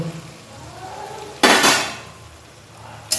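Boiled egg bhurji being stirred in a pan, with two sharp metallic utensil scrapes against the pan over a quiet background sizzle.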